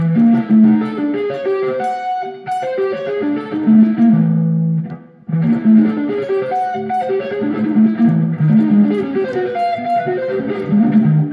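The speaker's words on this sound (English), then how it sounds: "The tritone fingering exercise sounds like this." Distorted electric guitar plays a tritone-scale fingering exercise, a busy melodic line of quick notes, briefly pausing midway before resuming, loud and upfront with no voices.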